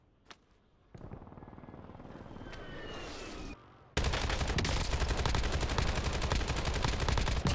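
AK rifle fire in a video game, starting as a softer background rumble before a loud, sustained burst of rapid automatic gunfire takes over for the last few seconds.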